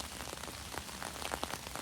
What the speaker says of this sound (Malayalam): നല്ല മഴയാണ് എൻ്റെ മൊബൈൽ നനിയോ